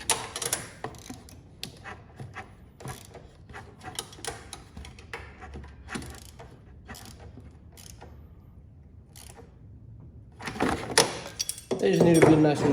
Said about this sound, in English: See if I can get my ratchet under here.